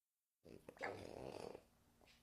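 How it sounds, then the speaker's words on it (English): A dog growls in a low, continuous rumble lasting under two seconds after a moment of silence, fairly close and clear with no talking over it. "That's the dog."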